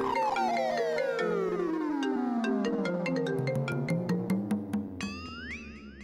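A mobile phone ringtone plays a bright, bouncy melodic tune of descending and rising tones, clear and fairly close, ending in quick rising chirps, with no talk over it.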